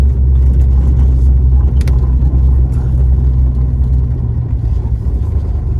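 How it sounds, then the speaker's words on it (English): A 1974 Dodge Charger SE with a 440 engine running while driving, giving a steady, loud low rumble from inside the car with a few brief knocks over it. "what a great running and driving car."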